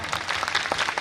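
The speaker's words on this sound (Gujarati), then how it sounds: "જોરદાર બરાબર તાળીઓ પાડો." Dense, brief applause from an audience at a school students' felicitation programme, many hands clapping together at moderate volume for about a second.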